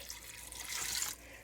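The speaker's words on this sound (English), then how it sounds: "So I'm going to add some water." Water poured from a tap into a soup pot for tortellini taco vegetable soup, a brief soft splashing gush that swells and then stops.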